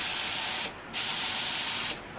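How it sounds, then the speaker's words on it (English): An HVLP spray gun sprays ceramic glaze in two steady hissing bursts, close and loud, separated by a brief pause. "then I go and I spray my next layer."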